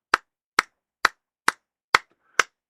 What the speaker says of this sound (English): I got to give you a soul clap.